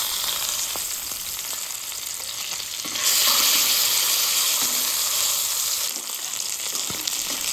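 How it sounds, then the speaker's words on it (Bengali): Japani puti fish fry in hot oil in a kadai as they are turned, giving a steady close sizzle that swells louder partway through and stays dense to the end. "মাছগুলো আস্তে আস্তে করে উল্টে পাল্টে একদম লাল লাল করে ভাজতে হবে"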